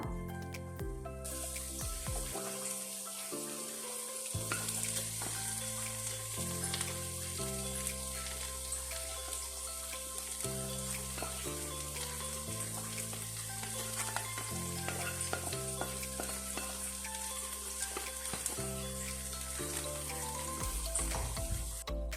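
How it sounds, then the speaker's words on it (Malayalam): Masala with spice powders is sautéed and roasted in a pan before mashed potato and carrot go in, a steady frying sizzle broken by repeated scraping and stirring strokes, with no talk. "ഇനി ഇതെല്ലാം നല്ലപോലെ വഴറ്റി പൊടികളൊക്കെ ഒന്ന് മൂപ്പിച്ചെടുക്കണം."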